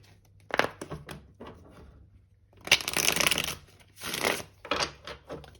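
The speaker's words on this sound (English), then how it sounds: "we'll do one last shuffle" Tarot cards are shuffled in several quick riffling bursts with brief pauses between them, close up and crisp.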